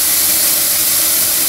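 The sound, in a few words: steam hissing through a steam boiler blower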